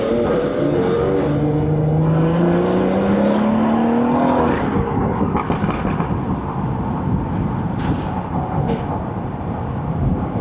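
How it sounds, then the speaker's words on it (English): A tuned BMW F80 M3 Competition warming up its tires gives a loud, close engine drone that rises in pitch as it revs, then breaks into rough, broadband roaring and tire noise with a few sharp cracks. "Jim warming up the tires."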